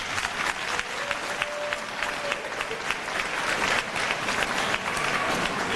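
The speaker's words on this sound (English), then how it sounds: "Can we give her another round of applause?" Audience applause at a high school graduation ceremony, dense sustained clapping from a large crowd filling the whole stretch at steady volume.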